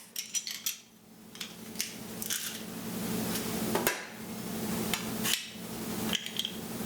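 Garlic smashed for fresh salsa: a series of sharp knocks and taps against a board, clustered at the start and then spaced out over a low steady hum, fairly close.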